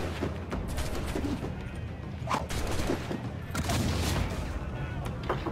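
Ship cannon fire in the Assassin's Creed Black Flag video game during a naval battle, with repeated booming blasts and crashing impacts over continuous background noise.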